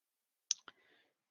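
A computer mouse gives two quick, faint clicks close together in an otherwise quiet moment.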